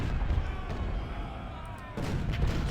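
Massed artillery and rifle fire from a Civil War battle at Perryville in Ultimate General: Civil War, a steady dense rumble of booms and crackling volleys that continues throughout, briefly dipping before swelling again.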